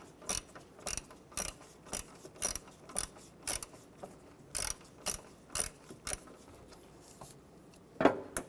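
Ratchet loosening a 7mm screw on the wiper cover of a 1994-2004 Chevrolet S10, a close run of sharp clicking bursts in a steady rhythm, about a dozen in all, then a louder final click.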